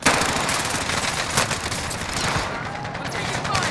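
Gunfire in Call of Duty Warzone: dense, continuous bursts of shots crackle without a break throughout, loud and close, with voices speaking now and then under the shooting.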